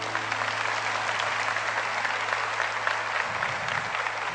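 A church congregation applauds steadily and loudly, a dense unbroken wash of clapping from a large crowd close by.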